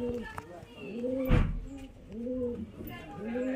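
Giribaz highflyer pigeons coo in repeated soft, rounded bursts, close by and fairly quiet, with a brief thump partway through.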